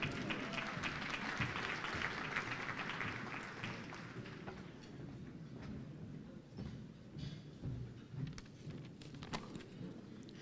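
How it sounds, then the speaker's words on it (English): Audience applause at an awards gala for a justice organization, a crowd clapping loudly and densely at first as a guest doctor is welcomed to the stage, then thinning out into scattered claps. "A round of applause."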